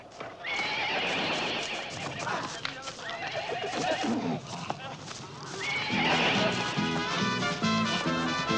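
A bad-tempered horse whinnies loudly near the end, with hooves clattering and people talking and shouting around it.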